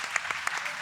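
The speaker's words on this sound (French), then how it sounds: "On peut applaudir aussi." A studio audience on a French television programme claps briefly: a handful of distinct, sharp claps spaced at uneven intervals, close and moderately loud, with no voices.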